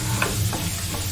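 Crushed garlic fries in oil in a pan for a chicken lollipop recipe, giving a steady, close, crackling sizzle with faint ticks throughout and no voices.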